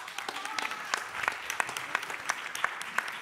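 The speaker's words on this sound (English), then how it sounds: "please give him a round of applause" An audience at a public hearing on reparations applauds, individual sharp claps standing out within a lively, uneven patter that builds slightly, with faint voices underneath.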